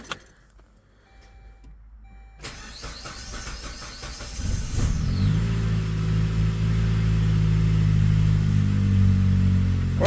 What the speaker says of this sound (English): Let's try to start the car.